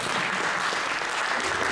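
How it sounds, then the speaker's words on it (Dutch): Audience applause for a panel expert at an ICT and AI masterclass, a steady dense clapping from a crowd filling the whole stretch without a break. "Als eerste geef een warm applaus voor Patrick Conny"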